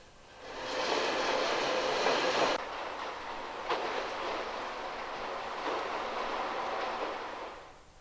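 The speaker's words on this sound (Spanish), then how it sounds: "el último tren francés del día. El rápido, que ha sustituido a la rama francesa del Sur Express, llega a Irún" A French express train arrives at Irún station on the Spanish border, a steady rolling rumble of wagons passing nearby with a brief sharp clank midway, no voices.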